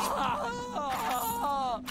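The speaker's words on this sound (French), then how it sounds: "Pourquoi il fait des cris comme ça, lui?" A splicer enemy in BioShock Remastered groans and wails continuously, a wavering, sobbing moan that rises and falls in pitch for two seconds, loud and close over faint game ambience.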